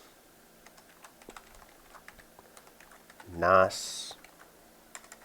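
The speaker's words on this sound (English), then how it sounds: "God damn, I can't type today." Someone types on a computer keyboard with scattered, uneven clicks and taps throughout. A short spoken word breaks in near the middle.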